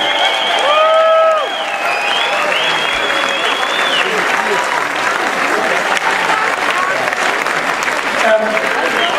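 A crowd applauds at a farmers' wedding festival in Horst, a dense, steady sustained clapping throughout, with some talking and a few cheers over the top.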